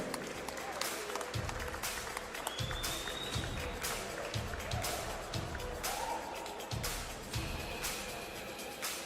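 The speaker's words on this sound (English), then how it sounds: "Please give them a massive round of applause." Audience applause at a GFC fight event, steady clapping from a crowd that fills the space at moderate distance, with a few sharper claps standing out.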